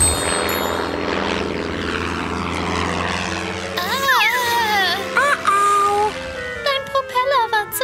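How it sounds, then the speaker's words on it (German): A cartoon airplane whooshes and buzzes through a children's animated scene, its propeller drone swooping up and down in pitch, loud and close over a busy music bed, with a voice and squeals breaking in toward the end. "Morphle, verwandle dich in ein Flugzeug und rette Tante Augustine."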